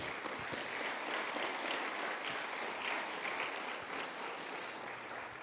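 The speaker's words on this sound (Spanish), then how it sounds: "Dale palmas a Él." A church congregation claps together in a sustained, even burst of applause filling the room, steady for several seconds without speech over it.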